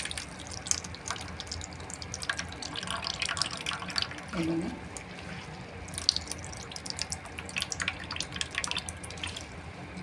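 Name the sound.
water squeezed and dripping from salted radish leaves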